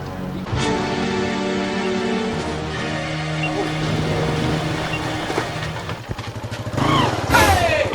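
A motorcycle engine runs at close range, idling and revving with a steady low throb, then sputters and clatters near the end before a brief louder surge.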